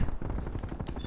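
Rapid bursts of automatic gunfire crackle densely throughout a first-person shooter team deathmatch on the Garrison map, loud and continuous with no pauses.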